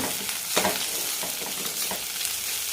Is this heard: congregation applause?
no